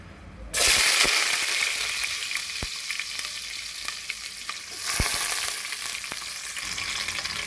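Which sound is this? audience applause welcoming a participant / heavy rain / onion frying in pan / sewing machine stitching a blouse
onion frying in pan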